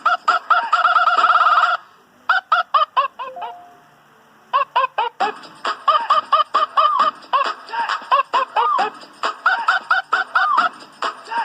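Rooster crowing sounds come in rapid repeated bursts, loud and close, with short pauses between the runs of calls and no talking.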